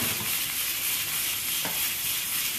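Potatoes cook in a pan with a little water added, giving a steady, soft sizzling hiss with a faint stir partway through.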